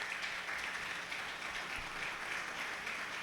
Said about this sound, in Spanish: Vamos a recibir con un fuerte aplauso a nuestro profesor